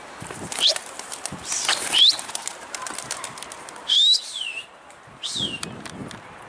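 Domestic pigeons take off from an open balcony high above a street, wings flapping in close bursts with a few thin chirps and whistles mixed in.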